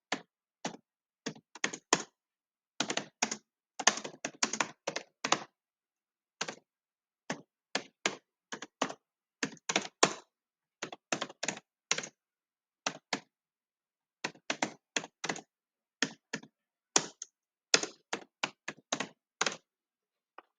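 Code being typed on a computer keyboard, crisp close key clicks arriving in quick bursts separated by short pauses, with nothing else audible.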